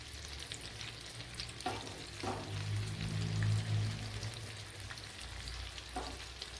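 Chicken fries in butter in a pan, giving a soft, continuous crackling sizzle with a low hum beneath and a few faint stirring knocks.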